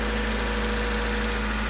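A 2011 Subaru Forester with a 2.5 liter engine and automatic transmission, 67,000 miles, runs steadily at idle, a close, even hum with a constant low drone and no talking.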